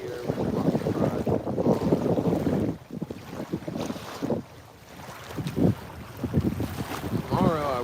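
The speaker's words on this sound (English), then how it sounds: "it's getting a little bit windier" Wind gusting outdoors on a fishing outing, buffeting the microphone with loud low rumbling blasts and a breezy roar that swells and drops, with faint speech-like sounds mixed in.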